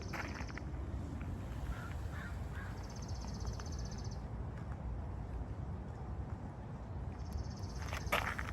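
Several nasal, quacking or honking bird calls sound in short bursts through a steady outdoor noise floor during a walk through a Japanese garden. The birds are moderately distant, and the calls come and go over several seconds.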